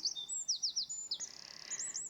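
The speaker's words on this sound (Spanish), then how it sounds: "¿Oís este canto de pájaro?" Recorded songbird song: a quick series of clear, high chirps and whistled notes, some in rapid repeated bursts, sounding alone and fairly close with no talk.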